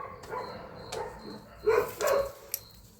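Neighborhood dogs bark sporadically in the distance, a few faint scattered barks with a couple of louder ones near the middle, no one speaking.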